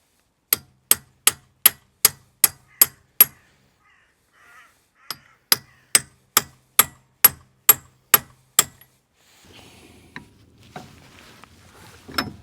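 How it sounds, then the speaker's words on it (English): A hammer beats on the wheel hub of a BMW E36 drift car, two quick runs of evenly spaced sharp metallic blows close by, followed by quieter rustling and handling noise. "Should we hammer it out a bit of the hub?"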